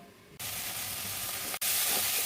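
Banana flower (mocha) is stirred in a pan with no oil, giving a steady sizzling hiss that jumps louder twice as the flame is turned up and the mix is moved.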